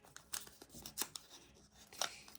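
Someone tears and rustles open a small paper surprise packet, giving a few sharp crinkling rips and tears with short pauses between them, close up and quiet, and no talking.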